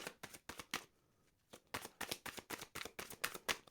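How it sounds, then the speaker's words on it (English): Tarot cards being shuffled by hand in quick riffling bursts, with a short pause partway through before the rapid flicking resumes, close and fairly quiet. "So let's shuffle again."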